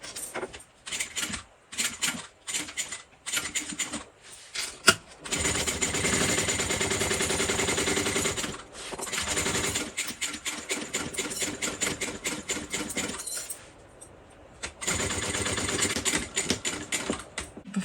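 A sewing machine stitching a fabric bag, running in rapid mechanical bursts of dense clatter with short pauses between, close and loud, then several longer steady runs.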